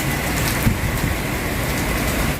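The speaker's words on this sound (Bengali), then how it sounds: "এখন কিন্তু যাকে বলে মুষলধারে বৃষ্টি," Heavy downpour in Dubai, a dense loud steady roar of rain on surfaces close by, with no distinct thunder and no talk.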